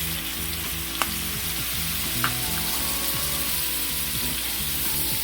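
Southern fried cabbage sizzles steadily in a hot pan as vinegar is added, a close, even frying hiss lasting throughout, with a couple of brief clicks.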